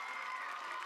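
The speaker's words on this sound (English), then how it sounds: "That's the sound of you clapping in the chat." Soft, distant applause with a faint crowd cheer, a short burst of clapping heard from afar.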